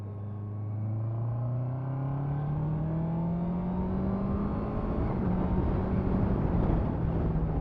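A 2023 Honda CBR650R inline-four sport motorcycle engine climbs steadily in pitch as it revs under acceleration, loud and continuous with wind roar throughout.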